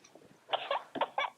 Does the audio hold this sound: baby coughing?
yes